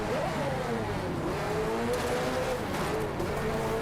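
A Lamborghini engine in the racing game Driveclub roars loud and close, its steady rumble rising and falling in pitch as it revs, with no talking over it.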